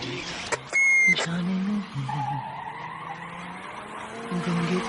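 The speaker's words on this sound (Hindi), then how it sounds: "पवन ने रिवर्स में ही गाड़ी दौड़ाई" Car screeches as it is reversed hard at speed, a skidding tire squeal over engine rumble as a horror-story sound effect, loud and close, with a short sharp burst near the start.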